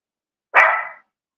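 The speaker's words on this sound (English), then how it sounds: "excuse me for the dogs barking." A single dog bark rings out close and loud, one sharp yelp lasting about half a second against otherwise silence.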